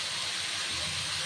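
Vegetables for chorchori hit hot oil tempered with panch phoron and sizzle in a brief, steady broadband hiss at moderate level.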